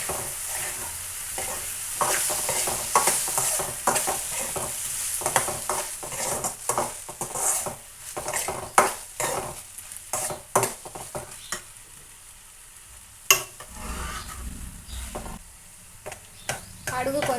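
Pieces of ridge gourd fry and sizzle in a pan while a utensil stirs and scrapes them in repeated close, loud strokes, with a steady crackling hiss underneath.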